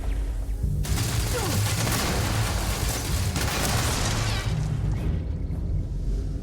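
Dense, sustained bursts of rapid gunfire and booming impacts inside a hospital in the video game Starfield fill the whole stretch, loud and continuous with no pause.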